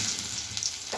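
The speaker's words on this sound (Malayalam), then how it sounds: "എണ്ണ ചൂടാക്കി ഇടുക. കടുകിന് അപ്പം തന്നെ കുറച്ച് ജീരകവും കൂടി ഇടുക." Mustard seeds and cumin sizzling in hot oil for a potato rava vada tempering, a steady close crackling hiss that runs unbroken through the whole short moment.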